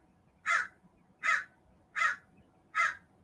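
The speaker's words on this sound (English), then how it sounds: "And the crow world is welcoming you as well." A crow caws four times at an even, unhurried pace, each call harsh and moderately near, in a quiet outdoor setting in Santa Barbara on a warm October day with no talking.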